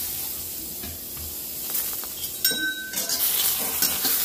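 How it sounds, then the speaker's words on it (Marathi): Tomatoes roasting in a pan for a homemade mutton dish give a faint, steady sizzle and hiss, with a few sharp metallic clinks from the pan partway through. "हे बघ, टमाटर भाजून घेऊ आता आपण चांगलं"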